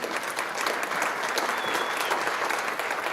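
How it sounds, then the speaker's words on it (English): Audience applause at a chamber of commerce business excellence awards event, a dense, steady round of clapping from a crowd that holds at an even level throughout. "Big thank you guys to Summit Orthopedics at Panorama for the fantastic VIP party"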